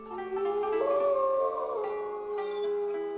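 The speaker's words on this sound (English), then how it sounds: "they're just dogs a-barking" Dogs at night let out a drawn-out howl that rises and wavers over a couple of seconds, then trails into fainter whimpering yelps, heard alone without speech.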